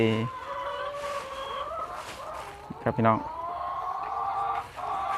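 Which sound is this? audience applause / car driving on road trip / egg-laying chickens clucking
egg-laying chickens clucking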